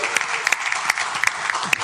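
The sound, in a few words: audience applause at a city council meeting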